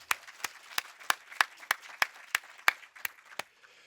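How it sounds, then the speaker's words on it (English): Sparse applause from a small audience at a film screening event, individual claps spaced evenly about a third of a second apart, fairly close and isolated against quiet. "So let's get a round of applause for all those folks right now."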